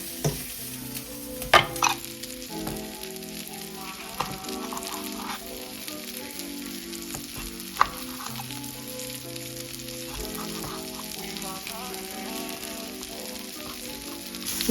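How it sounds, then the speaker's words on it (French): Onions frying in a pan for homemade burgers, a continuous close sizzle with occasional stirring clatter and scraping, backed by soft tonal music and no talking. "oignons sont en train de frire, en fait, il faut que les oignons soient bien dorés"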